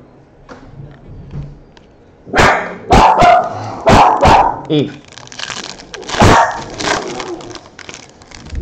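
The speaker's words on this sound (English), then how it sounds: "Dog hates the mailman." A dog barks in several loud, close, sharp bursts, a few quick woofs followed by more scattered barks, with someone talking around them.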